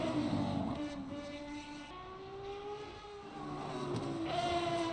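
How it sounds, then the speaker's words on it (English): An Aston Martin race car in a racing video game at Spa roars through its engine and exhaust, with the pitch rising and falling steadily under a continuous, moderately loud drone. "what a sound that car makes"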